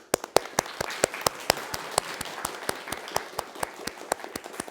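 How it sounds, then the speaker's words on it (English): A group claps quickly and steadily, sharp separate claps landing in an even rapid rhythm for several seconds, crisp and moderately loud indoors with a faint hiss of room noise behind. "And then we have fast clap, which means go away."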